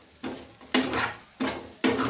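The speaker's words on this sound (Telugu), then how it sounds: "మంచిగా కలిపేసుకోవాలి." Poha upma being stirred in a pan, with four distinct scraping strokes in a slow uneven rhythm over a faint sizzle, fairly quiet and close.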